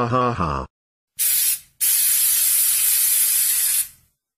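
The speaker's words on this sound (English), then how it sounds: "I am going to vandalize the stop sign by covering it with a spray can" A spray can hisses paint onto a stop sign in two bursts, a short spray and then a longer sustained blast of about two seconds, loud and close, following a brief voice.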